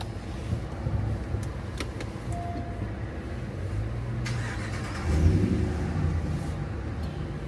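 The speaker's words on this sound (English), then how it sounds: "oh, he's backing up." A car backs up nearby, its engine giving a steady mid-pitched hum that swells briefly louder partway through, with no talking.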